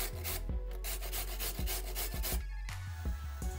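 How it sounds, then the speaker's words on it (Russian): Repeated rough rasping strokes of carrot scraped against a coarse grater, close and steady, with a short pause before the scraping resumes. "Трем морковь на крупной терке"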